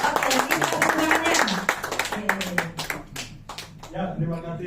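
Audience applause at a marketing plan presentation, a burst of claps that fades out, with a voice speaking over it.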